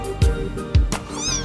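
Two quick high-pitched meows come from a kitten down inside a hole, close and fairly loud, a brief pair of cries a half second apart.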